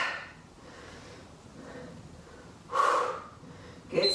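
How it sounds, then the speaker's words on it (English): Forceful breaths pushed out during a high-intensity yoga leg workout: soft steady breathing at first, then a loud, sharp exhale near the end followed by the start of another, all close to the mic. "keep breathing. Noisy exhales."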